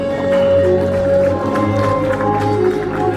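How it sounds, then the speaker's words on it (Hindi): Steady applause from an audience honouring guests at an Atal Foundation commemorative event in Delhi, continuous clapping under a constant hum from the hall's sound system. "हम चाहेंगे कि आप इनको सम्मान दें अपनी तालियों के साथ"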